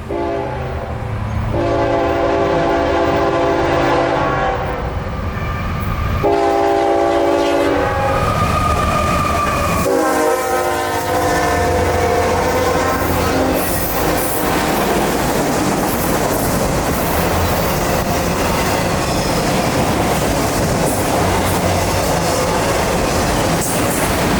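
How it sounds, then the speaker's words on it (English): A Norfolk Southern combo freight of manifest cars and intermodal containers passes, its horn sounding loud, repeated blasts early on before the heavy, continuous rumble and rattle of the cars rolling by fills the rest. "215 is basically just the combo train of our manifest freight and intermodal containers"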